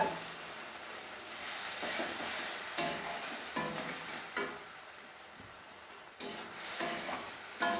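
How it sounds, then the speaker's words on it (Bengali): Masala for a chicken liver and stomach curry being sautéed with a little water in a pan, a steady close sizzle broken by several scraping stirs, with no voices. "ভালো মতো আমি মশলাটাকে একটু জল দিয়ে কষিয়ে নেব"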